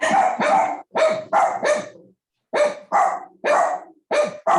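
Dogs bark repeatedly in close, loud bursts, a run of five sharp barks, a short pause, then five more in an uneven rhythm with no talk over them.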